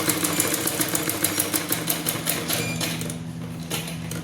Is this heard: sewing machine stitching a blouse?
yes